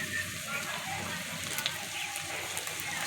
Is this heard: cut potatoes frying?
yes